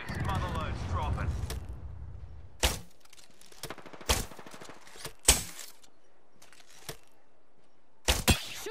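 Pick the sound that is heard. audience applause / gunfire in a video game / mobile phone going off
gunfire in a video game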